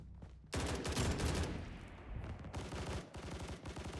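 An M16A2 rifle fires in the video game BRM5, loud rapid shots in close succession. The bursts pause briefly and then resume with more shots.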